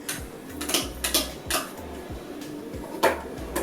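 Three-quarters of a kilo of chicken tipped into a cooking pot for saffron biryani, giving several clattering knocks and scrapes of metal and pieces landing in a loose rhythm, close and moderately loud with no talk.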